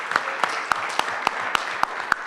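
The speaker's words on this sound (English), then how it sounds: "give all of our ventures a big round of applause" An audience at a food systems pitch challenge applauds the presenting ventures, a continuous wash of clapping with a steady sharp beat of louder claps cutting through.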